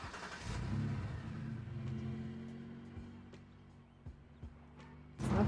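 A truck pulls away in The Sims 2 with a faint, steady engine hum that rises and falls as it drives off, followed by a louder burst of sound at the end.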